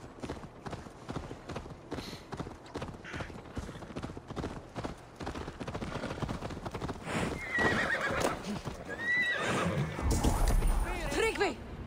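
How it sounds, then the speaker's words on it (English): A horse in the video game Assassin's Creed Valhalla gallops with steady clip-clop hoofbeats and then neighs loudly near the end, over music and game sounds. "stupid horse, where are you going?"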